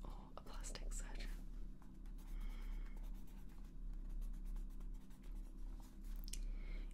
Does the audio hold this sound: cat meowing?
no